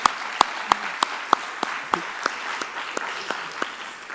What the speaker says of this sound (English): An extra applause for you.